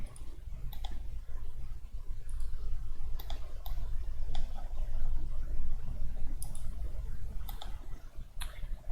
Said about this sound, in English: so middle mouse clicking.